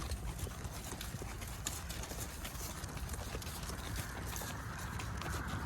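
Horse hooves clip-clop in a steady walking rhythm during a horseback ride through vineyards in northern Argentina, with the repeated clatter fairly close and continuous against outdoor background noise.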